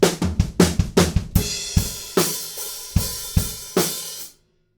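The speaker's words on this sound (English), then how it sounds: "a big old fill going into the choruses" A big drum-kit fill in a rock beat, leading into the chorus: loud, close hits in a rapid opening burst, then heavy cymbal-backed strikes spaced about a beat apart, ending in a sudden cutoff.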